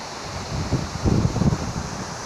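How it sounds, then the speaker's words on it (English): Cibodas waterfall in West Java, a natural forest setting, gives a steady broadband rush of falling water with low rumbling surges, moderately loud and continuous, with no talking. "This is the Chibodas waterfall."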